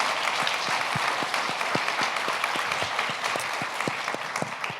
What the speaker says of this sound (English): a round of applause for the JCC.